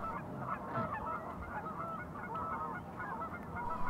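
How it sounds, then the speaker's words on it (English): A flock of Canada geese, many of them local birds, honking continuously at a pond shared with cormorants, forming a dense overlapping chorus of calls at steady volume with no voices. "And the Canada geese, a lot of them local, still share their ponds with cormorants."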